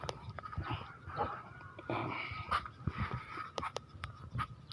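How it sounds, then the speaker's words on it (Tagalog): Restless dog at a house in the provinces during a home computer repair visit, giving soft panting and whimpering sounds with scattered sharp bursts, close by, with no clear loud barks. "Grabe yung aso. Huwag naman ganyan, doggy."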